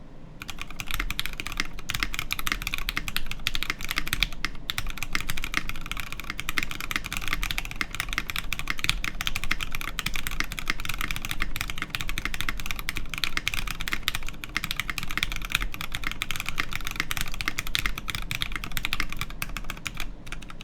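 Continuous rapid clacking of keystrokes on a CannonKeys Cerberus mechanical keyboard, close and crisp, a steady uneven patter running without pause and no voices.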